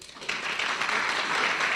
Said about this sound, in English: Please give this applause to Chanel Ellis